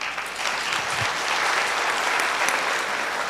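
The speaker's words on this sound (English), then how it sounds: "A round of applause for them," Audience applause for the panelists at a microfinance and housing finance plenary session, a steady wash of many hands clapping that holds evenly for several seconds, with no voices on top.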